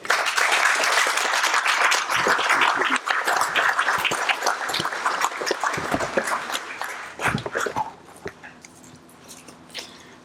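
An audience applauds loudly as a Veteran's Day speaker, a company president and CEO, is welcomed to the stage; dense steady clapping fills most of the stretch, then thins into scattered claps before fading.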